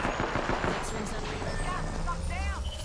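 Rapid gunfire from a video game, quick repeated shots early on, followed by game effects and chirping tones, with a voice talking over the action.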